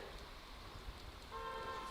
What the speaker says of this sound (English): Cars honking their horns because they're driving too fast in this dangerous stuff.